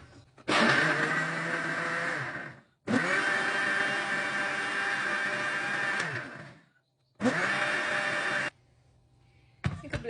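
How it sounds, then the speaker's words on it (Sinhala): A blender whirs through a detox drink made with filtered water, three loud sustained runs separated by brief pauses, with a fourth starting at the end. "මේක බ්ලෙන්ඩ් කරලා ඉවර වුණාම"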